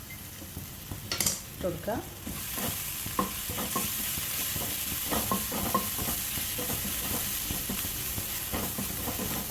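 Shallots and green chillies frying in coconut oil with turmeric in a pan, stirred with repeated spoon scrapes over a steady sizzle, while a voice speaks briefly.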